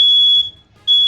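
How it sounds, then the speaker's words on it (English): A household smoke alarm shrills close and loud in two piercing high beeps separated by a brief pause, with no one talking over it. "as my smoke alarm goes off"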